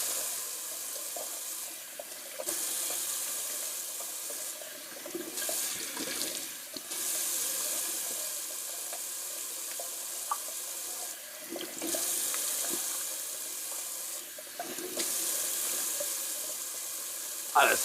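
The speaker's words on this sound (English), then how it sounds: "Just gonna rinse off with some cold water." Cold water from a tap running into a bathroom sink for rinsing after a shave, a loud steady hiss interrupted several times as hands pass through the stream, close up.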